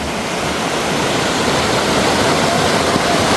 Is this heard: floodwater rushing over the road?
yes